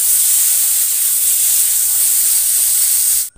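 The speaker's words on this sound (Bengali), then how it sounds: "আর এদিকে বেগুনটা ভেজে নিচ্ছি" Eggplant frying in a pan makes a loud, continuous, close hiss of hot oil that holds steady for over three seconds, then stops abruptly.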